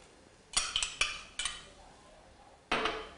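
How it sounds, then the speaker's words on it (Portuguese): Chopped onion going into a pan with oil for a sausage cupcake filling, heard as several sharp clattering hits of metal and utensils, one cluster near the start and a louder one near the end, with no sizzling evident and no talk. "em uma panela, eu vou acrescentar o óleo, coloco a cebola"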